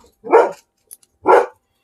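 A dog barks twice, loud and close, with a pause of about a second between the two deep barks and a tiny click in the silence.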